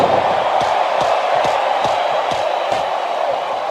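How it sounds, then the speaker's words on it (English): A large arena crowd in the wrestling game WWE SmackDown vs. Raw 2008 roars steadily, punctuated by regular thuds from the ring, with commentators talking over it. "Sounds like this crowd's got something on their minds"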